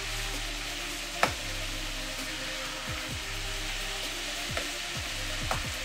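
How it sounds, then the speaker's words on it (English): Mahi mahi fish sears in a hot pan with a steady, close frying sizzle throughout, and a few faint utensil scrapes and taps over the continuous hiss. "We want that golden sear."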